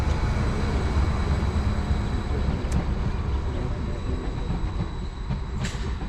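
A Class 755 passenger train rumbles steadily nearby on the Bittern Line, a continuous low roar with faint squeals and clicks as it rolls slowly into the platform.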